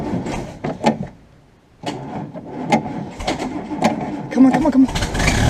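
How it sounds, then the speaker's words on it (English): A Land Rover Series 2a 88 engine cranks over in uneven bursts without catching, close and fairly loud, with brief pauses and voices mixed in. "See if we can crank it."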